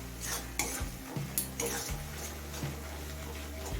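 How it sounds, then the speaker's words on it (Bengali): Spices for chicken rajma are stirred in a cooking pan, with a utensil scraping and clinking against the metal in short bursts over a soft background sizzle. "সমস্ত মশলা নাড়াচাড়া করে একসাথে মিশিয়ে নিলাম।"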